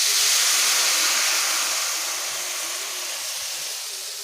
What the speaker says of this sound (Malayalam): എണ്ണ ഒന്ന് ചൂടായി വരുമ്പോഴത്തേക്കും അതിൻ്റെ അകത്തോട്ട് ചെറിയുള്ളി അരിഞ്ഞതിടുക